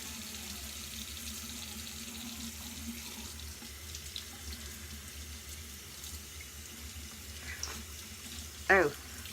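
Tap water running into a sink, a faint, steady hiss and trickle in the background, with a brief louder clatter near the end.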